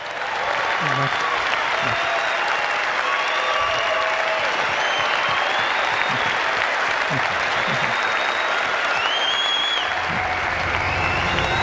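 Sustained applause from a large audience, steady and dense throughout, with a few faint voices and whistles rising above the clapping.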